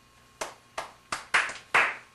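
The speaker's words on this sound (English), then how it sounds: "Give me some claps, boys." Several people clap their hands in five sharp, separate claps that grow slightly louder and quicker, close up and with no talk.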